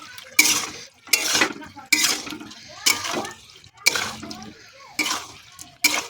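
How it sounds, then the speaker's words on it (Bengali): Water poured into a pan of cauliflower and potato curry, several bursts of splashing and pouring with stirring clatter between them, close and fairly loud, while someone talks. "জল দিয়ে দিই।"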